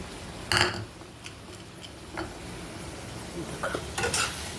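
A spoon stirs okra curry with onion and mustard paste in a pan, scraping and clinking against the metal in a few distinct bursts over a soft, steady sizzle.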